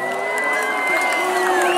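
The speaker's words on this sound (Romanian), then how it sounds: "Haideți să-i aplaudăm Opera Brașov!" A crowd cheers and applauds for the Opera Brașov performers at the outdoor Christmas tree inauguration in Piața Sfatului, Brașov, on a cold winter evening, with a dense, steady roar of voices and whoops.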